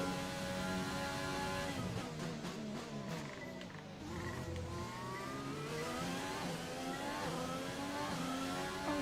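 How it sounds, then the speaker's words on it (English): Formula 1 race car in the F1 2020 video game accelerating hard through a tunnel, a loud, continuous engine roar with rising and shifting pitch that echoes, with no talk over it. "Car sounds meaty through the tunnel."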